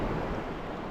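Sea waves wash in a steady, broad roar with wind buffeting the microphone, recorded on the coast of Hiiumaa during flounder fishing.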